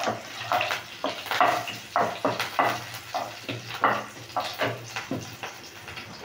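Green chilies go into hot oil with cumin in a frying pan while making matar (peas) paratha. The result is a wet, crackling sizzle that surges in short bursts, as if the pan is being stirred or shaken.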